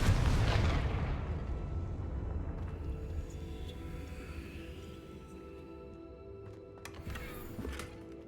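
A Confringo fire-blast spell explodes in Hogwarts Legacy: one loud, close boom at the start, then a long rumbling decay fading over several seconds, with faint game effects near the end.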